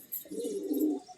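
A pet pigeon gives a single soft, throaty coo, close by and fairly quiet, in an otherwise still setting.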